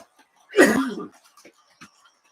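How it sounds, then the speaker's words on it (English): A single harsh cough up close, then quiet breathing and faint small noises. "Excuse my coughing."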